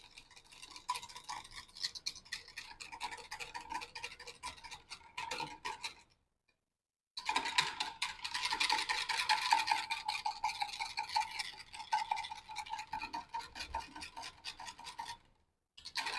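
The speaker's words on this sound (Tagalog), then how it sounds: "Mix lang natin hanggang matunaw natin yung ating margarine sa warm" Margarine being stirred into warm water in a bowl for pandesal dough, a quick steady scraping and ticking of a utensil against the container that pauses briefly twice, close and fairly quiet.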